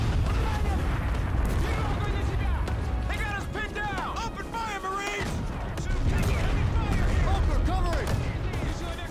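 Grenade launchers and gunfire in the video game Army Men of War, a dense, loud, continuous battle din of booms and shots with voice-like game sounds layered throughout.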